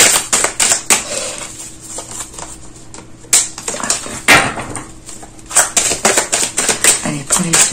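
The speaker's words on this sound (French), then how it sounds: "Je vais tirer toutes les cartes." Tarot cards are drawn and laid out in a rapid run of crisp snaps and flicks with a few short pauses, close and fairly loud, with some talking in the background.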